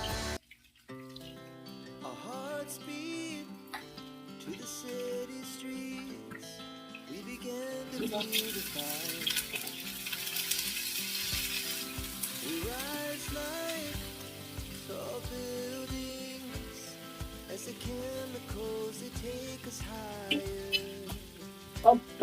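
Food fries in a pan in a home kitchen, a steady sizzle running beneath background music for over twenty seconds, with a few clinks near the end.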